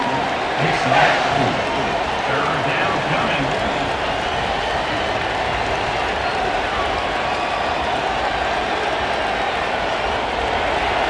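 Stadium crowd noise from the College Football 27 video game, a dense continuous roar of cheering spectators with some clapping near the start, steady and loud throughout.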